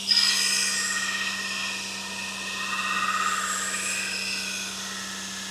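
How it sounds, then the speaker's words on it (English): A big chef knife is ground on a blacksmith's grinder, giving a close, sustained abrasive hiss and whine that swells and eases as the blade moves across, over a steady low motor hum. "This is the big chef knife, and they suck to grind, but they're cool."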